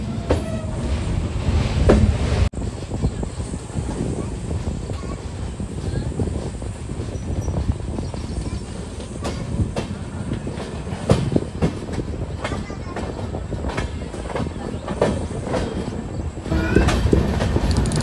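Express train rolling past on the Tirupati to Hubli line, a steady loud rumble of wheels and carriages with rhythmic clatter and occasional sharper knocks running throughout, close by.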